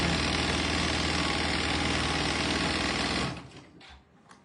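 A sewing machine runs at speed stitching a fabric car trash can, a loud, even mechanical chatter for about three seconds before it stops, followed by a few light clicks.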